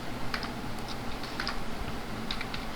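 Typing on a computer keyboard, quick light key taps in small clusters, moderately close, over a steady background hiss with no voice.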